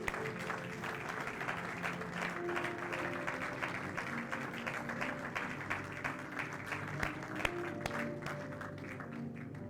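A church congregation claps together to acclaim the Lord during a service, a continuous, fairly faint wash of applause lasting several seconds.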